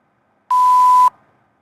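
A steady pure 1,000 Hz test tone sampled at 8,000 Hz sounds alone for about half a second, clean and loud with abrupt start and stop.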